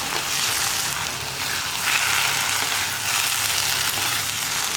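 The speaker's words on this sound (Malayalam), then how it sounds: "അത് നമ്മളൊന്ന് ഇളക്കി മിക്സ് ചെയ്ത് വരുമ്പോൾ വറ്റി വരും ചട്ടിയിൽ കിടന്നിട്ട്." Horse gram being stirred and cooked in a pan as its last bit of water cooks off, giving a loud, steady, close sizzling hiss that runs unbroken with no talk.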